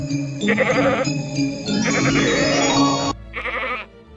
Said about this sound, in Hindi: यह तो बकरी के चिल्लाने की आवाज है,